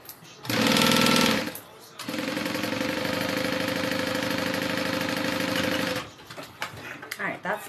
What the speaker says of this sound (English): We're going to sew those down.